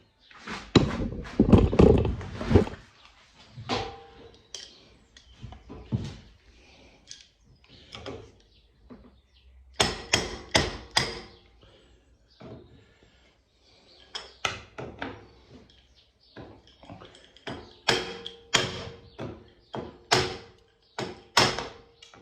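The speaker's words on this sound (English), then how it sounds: "I'm using just a screwdriver and a hammer just to chisel it off." Repeated sharp metallic taps and knocks come in irregular bursts, like a hammer striking a screwdriver to chip material, close by, with quiet pauses between.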